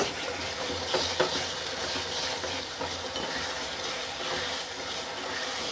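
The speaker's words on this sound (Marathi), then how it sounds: "तुम्ही पाहू शकता मसाला आपला किती छान परतला जातोय" Onion and sesame paste masala sautéing in a pan for Maharashtrian shev bhaji, a steady close sizzle with occasional scraping stirs throughout, no voices.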